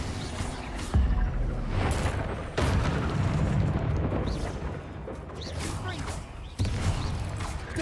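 Spells cast in the Hogwarts Legacy video game, a run of heavy booms and blasts that hit sharply several times over rumbling combat noise, while a voice calls out over the effects.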